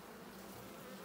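Honeybees hum steadily around an open hive during a hive split, a dense, continuous low drone with no gaps, close by and alone.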